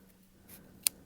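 Scissors make a single crisp snip as they trim a cardboard template for a pom-pom garland. The cut is close but quiet, with a fainter rustle of paper just before it.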